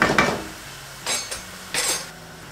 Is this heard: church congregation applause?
no